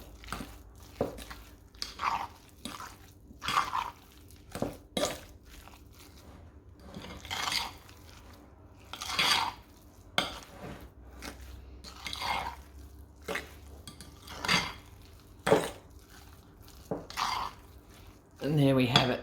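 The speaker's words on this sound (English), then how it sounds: "Just mix that until it's all mixed through, nice and evenly, and it's nice and smooth to work with." Ravioli filling stirred in a bowl gives soft, irregular clinks and wet scraping of a utensil against the dish, fairly quiet and close, with faint movement noises between strokes and no clear talking.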